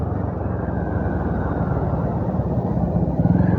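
A motorcycle being ridden, its engine a dense, steady, close droning rumble that holds continuously and swells slightly near the end.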